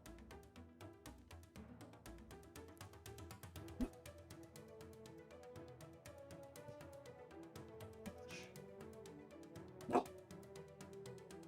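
A dog barks a few times in a room, fairly faint and intermittent, with sharper yips around the middle and near the end over quiet background sound.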